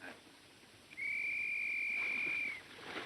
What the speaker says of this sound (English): There's Tyne's whistle right on the nose